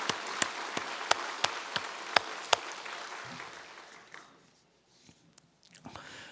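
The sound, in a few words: congregation applause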